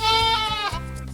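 A goat bleats once, a close, loud, wavering nasal cry that breaks and trails off within about a second.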